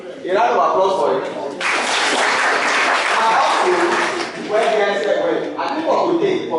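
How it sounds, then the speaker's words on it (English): Applause breaks out among the audience at a chemistry quiz competition in Kwara, a brief hush giving way to a loud, sustained round of clapping that carries on for several seconds and dips only slightly near the end. "a round of applause for it."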